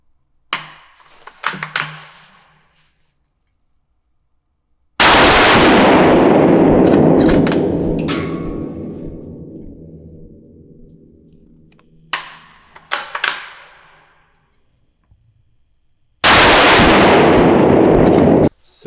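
Loud gunshots fired over a Caldwell Ballistic G2 chronograph outdoors: sharp single reports, each followed by a long rolling echo, with quieter handling clicks between shots.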